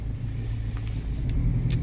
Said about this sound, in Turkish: Şimdi kapalı otoparka arabayı koyacağız.